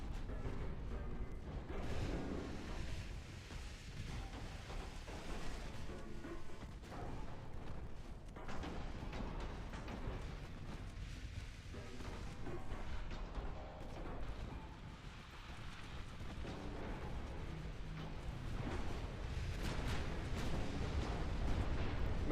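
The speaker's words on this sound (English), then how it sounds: "There's a lot of incoming fire." Incoming naval gunfire in Ultimate Admiral Dreadnoughts, a dense, continuous rumble of distant shell bursts and booming cannon fire rolling on without pause, loud throughout with no voices.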